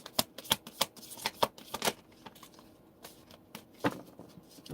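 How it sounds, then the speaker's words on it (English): Tarot cards shuffled by hand at close range, a run of crisp irregular riffling and slapping bursts with short pauses between them. "I don't think I like the way I shuffled that."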